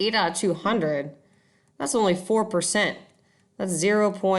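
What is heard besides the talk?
No everyday noise stands out behind the speech.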